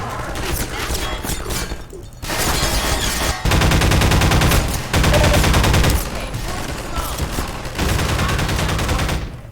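Rapid bursts of gunfire from Half-Life 2, loud and dense, coming in several sustained volleys with short pauses between them.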